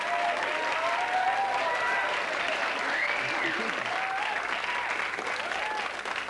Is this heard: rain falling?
no